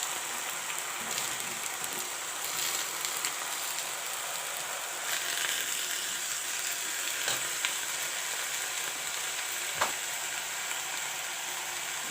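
Potatoes and cauliflower fry in a pan for a healthy palak recipe, giving a steady, even sizzle with a few faint clicks and taps of stirring. There is no talk.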